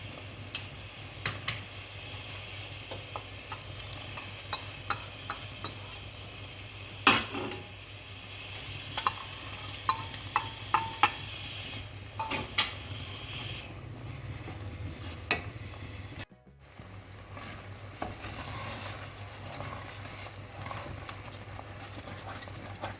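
Ghee left over from roasting cashews is poured into a pan for pongal and sizzles softly and steadily, with scattered clinks of a utensil and stirring. A short near-silent gap comes before the frying resumes. No one speaks.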